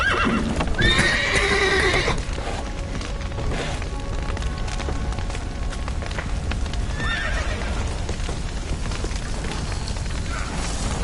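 Horses neigh and whinny up close, with a loud whinny at the start and another around the middle, over steady clip-clopping hooves and a dense crackling, rumbling background in The Witcher 3.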